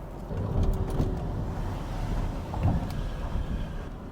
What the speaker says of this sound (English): We drive all the way down the yard in my bright yellow SLK. See if we can get a gear change out of it.